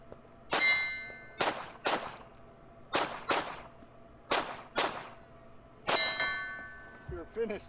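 Glock 43 pistol fired on a shooting stage, about ten sharp cracks in uneven pairs and singles with brief gaps, each with a ringing steel-target clang, followed by a short spoken word at the end.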